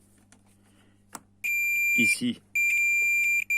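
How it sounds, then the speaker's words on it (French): A multimeter's continuity beep sounds while probing an Alfa Romeo MiTo glow plug: two long steady electronic tones, the first cut by a brief pause, with someone speaking briefly in between. "et qu'elle bip, en fait, la continuité entre le plus qu'elle a et le moins est là"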